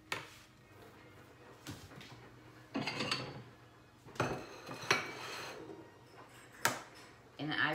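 Eggs are added one at a time to pound cake batter, with clinks and knocks of a utensil and bowl, a few sharper taps, and soft mixing sounds in between, fairly quiet and close.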